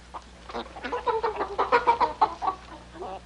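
Chickens cluck in a close, busy burst of overlapping calls, rising and falling in quick uneven rhythm with a faint low hum beneath, no speech.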